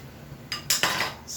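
Soft cooked tomato crushed and scraped against a pot with a utensil while tuna jaw simmers in broth, a few short close metallic clinks and scrapes over about a second.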